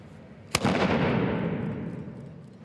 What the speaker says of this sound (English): Skills include methods of loading and firing as rapidly as possible.